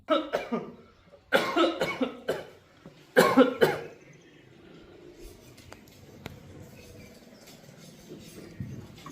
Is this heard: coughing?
yes